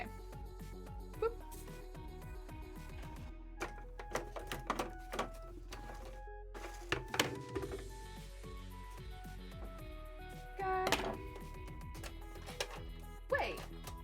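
An embroidery machine runs through cosplay beading and embroidery work, its stitching a busy, steady mechanical clatter with scattered louder knocks and brief pauses throughout.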